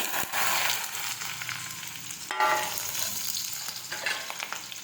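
Chopped okra with mustard seeds and cumin sizzling in hot oil, a steady close frying hiss with a few brief bursts and crackles, no voices.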